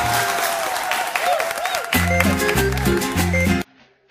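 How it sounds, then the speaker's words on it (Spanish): An audience claps and cheers at a televised tropical music show as a singer is introduced, broad crowd applause under a host's voice and band music, ending abruptly. "Un aplauso en cadena nacional."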